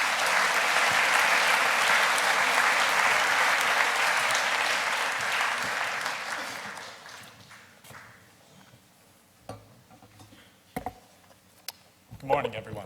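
A school assembly audience claps for a guest speaker, dense loud applause that holds for about six seconds and then thins out into scattered claps, footsteps and a few knocks.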